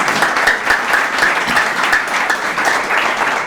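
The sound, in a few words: church congregation applause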